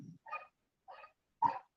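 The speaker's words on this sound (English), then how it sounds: "The dog speaks" A dog barks three times, short and spaced out, faint and somewhat distant in an otherwise quiet setting.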